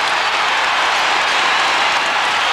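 Arena crowd at a 1998 Timberwolves–Bulls basketball game roars and applauds after a Kevin Garnett rebound, a dense, steady wall of cheering with no gaps.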